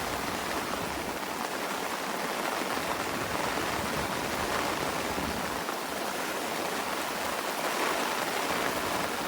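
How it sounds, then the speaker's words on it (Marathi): Heavy rain pours down steadily during a rainy-day fishing trip, a dense, constant hiss of drops that holds at the same loud level throughout, with no voices. "पाऊस आलाय मस्त जोरात"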